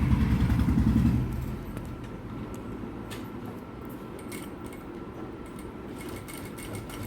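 A sewing machine stitching a fold at a blouse neck, a fast close mechanical whir for about a second, then stopping, leaving only faint clicks and handling sounds.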